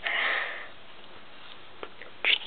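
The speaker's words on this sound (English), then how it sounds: "I'm sniffing a lot today because I'm allergic to cats." Repeated sniffing from a person with cat allergies, a long close nasal sniff followed by a few shorter ones, sharp and near with no speech.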